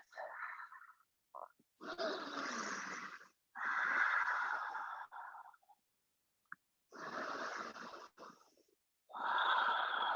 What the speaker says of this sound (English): Finding that Ujjayi breath.